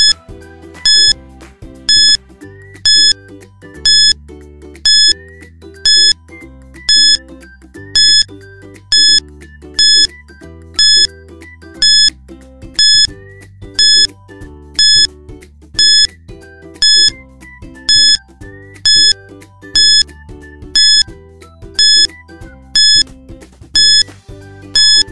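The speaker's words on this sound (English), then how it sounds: "Your timer starts now." A countdown timer for a math exercise plays a looping electronic tune with a bright beep pattern repeating at a regular pulse over a steady low bass line, loud and without voices.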